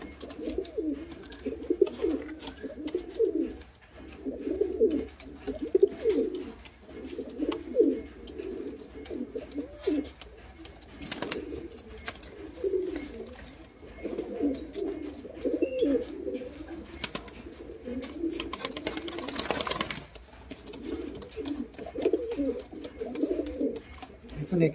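A flock of Mughli-breed Teddy pigeons coos continuously in overlapping low rolling phrases, moderately loud and close, with a brief noisy rustle near the end and a voice speaking at times over the birds.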